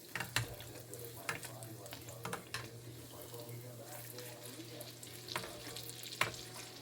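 Bacon frying in oil while being basted for Guyanese-style bake and salted fish, a steady low sizzle broken by occasional sharp pops and spatter bursts, close up with no voices.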